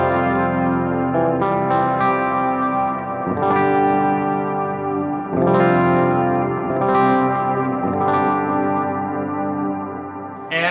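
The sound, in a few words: electric guitar through reverb pedal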